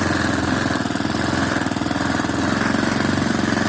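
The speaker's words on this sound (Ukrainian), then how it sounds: "Мій квадроцикл на поле їду" An ATV quad bike engine drives steadily with a rapid, rough chugging pulse, loud and close throughout, on the way to a field while towing a small trailer through second gear.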